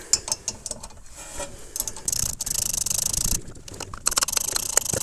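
A hand ratchet fitted with a T45 bit turns the brake caliper bolts on the rear disc brakes of a 2012 Ford Focus. The pawl clicks are close, coming in quick bursts with short pauses between them.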